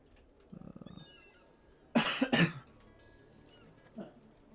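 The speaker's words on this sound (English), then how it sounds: "I mute myself, but you hear me coughing" Two sharp, harsh coughs close up, preceded by a brief rapid throaty sound and followed by a softer one, with quiet background between.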